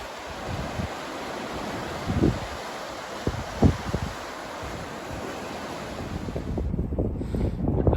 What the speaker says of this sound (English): It's a bit windy, but I've made it to Land's End.